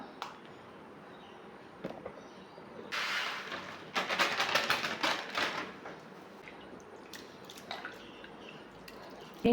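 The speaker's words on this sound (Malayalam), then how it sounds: "നമുക്ക് വെള്ളത്തിൽ നന്നായി കഴുകിയെടുക്കാം" Broken wheat being washed in water in a home kitchen, giving soft splashing, swishing and dripping sounds that swell in the middle, close and fairly quiet.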